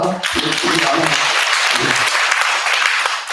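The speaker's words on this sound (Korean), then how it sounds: "우리 마음을 담아서 박수 7번 해야 되겠습니다" A church congregation at a Sunday daytime service in Jeonju claps together in a dense, continuous burst, with voices mixed in at the start and under the clapping.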